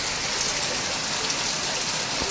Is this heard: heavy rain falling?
yes